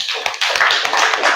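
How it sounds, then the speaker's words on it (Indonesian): A short burst of group clapping from a training-session audience, with dense, overlapping hand claps at close range. "Kasih tepuk tangan untuk semuanya."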